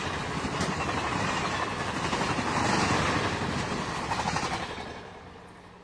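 A passing Amtrak train on the Northeast Corridor near the Perryville station, Maryland, by the Susquehanna River bridge in 1996, heard as a steady broad rumble and clatter of rolling cars that swells mid-pass and then fades away, with no talk.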